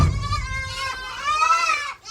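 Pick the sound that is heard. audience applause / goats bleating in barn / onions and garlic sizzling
goats bleating in barn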